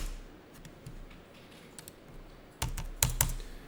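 Computer keyboard keys tapped during accounting data entry, a few light scattered clicks followed by a louder cluster of sharp presses near the end as the Tab key is hit, close and without talk.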